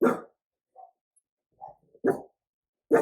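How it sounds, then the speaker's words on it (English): Dogs barking nearby, heard as several short, loud barks at irregular intervals with brief quieter yips in between. "Sorry, my dogs are barking."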